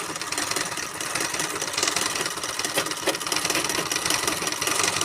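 A domestic sewing machine stitches a zig-zag over wire laid on fabric, a steady mechanical whirr and rattle running continuously at a fairly constant level with no one talking.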